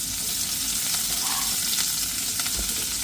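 Onion and green chilli fry in a hot pan for a spinach dish, giving a loud, unbroken crackling sizzle with faint stirring throughout.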